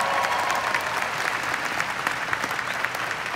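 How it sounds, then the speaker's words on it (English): Audience applause at a business convention in Texas: a dense, continuous wash of clapping from a large crowd, steady and fairly loud with no talk over it. "Can we give them a big round of applause,"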